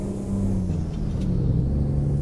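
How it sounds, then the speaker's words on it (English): A truck engine in American Truck Simulator revs with a low, steady droning rumble that rises slightly in pitch, loud and close, with no talk. "just listen for the revs"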